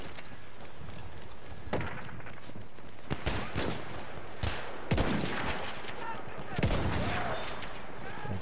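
Lever-action rifle in Battlefield 1 firing several sharp, widely spaced shots in a forest setting over a steady battle ambience, with distant gunfire and a voice talking in the background.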